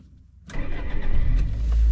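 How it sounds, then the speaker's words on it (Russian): A Toyota Carina E with a manual gearbox cranks and its 1.6 engine catches abruptly after a quiet moment, then settles into a loud, steady idle that builds slightly, heard close up. "Сейчас я вам просто покажу, как этот автомобиль едет."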